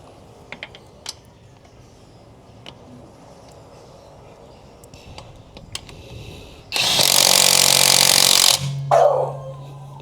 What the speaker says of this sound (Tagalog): itong Dongcheng Impact Wrench natin na cordless